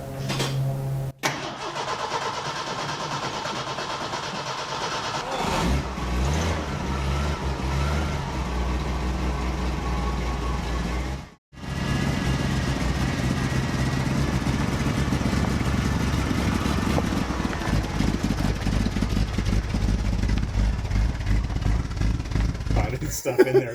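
A 1979 Jeep CJ on 33-inch tires cranks, catches on full choke and settles into a steady, loud idle that keeps running after a short break. Voices talk over the engine at times.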